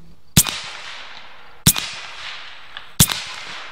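An AEA Zeus air-powered arrow gun fires at a target three times, each shot a loud, sharp, close crack with a short fading tail, spaced about a second and a half apart.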